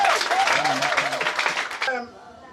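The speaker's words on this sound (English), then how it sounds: "Clap for him." Crowd at an outdoor church evangelism gathering in Enugu claps steadily and loudly with voices mixed in, then the applause cuts off abruptly near the end.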